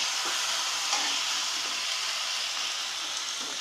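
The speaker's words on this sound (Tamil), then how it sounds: "சேர்த்து கொஞ்சம் நல்லா வதக்கிக்கலாம்." Onion and tomato sauté in a pan with a steady, bright, hissing sizzle that holds at an even level throughout and has no talk over it.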